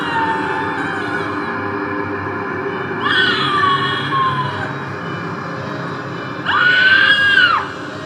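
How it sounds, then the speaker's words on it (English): Recorded monster screams made for Halloween, two drawn-out shrieking wails with gliding pitch, one around the middle and one near the end, over a steady background hum. "maybe that's too many screams."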